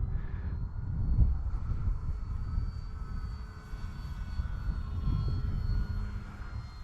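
An OMP Bighorn Pro flap-version RC model airplane flies on its maiden flight, its small engine giving a steady, moderately loud droning hum that swells and fades slightly as it passes, with no talk.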